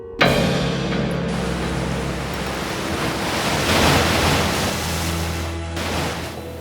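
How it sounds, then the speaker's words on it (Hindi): High ocean waves in an animated fairy tale about a sea princess surge as a steady, loud broadband roar, swelling midway and holding with no voices. "पिछले 3 दिनों से लहरें काफी ऊंची हैं"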